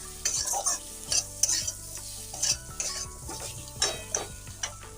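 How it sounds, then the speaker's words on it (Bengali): Mixed vegetables frying in a pan for a vegetarian dish, sizzling close up while a spatula stirs in irregular scraping bursts against the metal, with no one speaking. "এখন বেশ ভালো করে আমি নেড়ে চেড়ে নেব আর বেশ ভালো করে কিন্তু আমি ভেজে নিয়েছি"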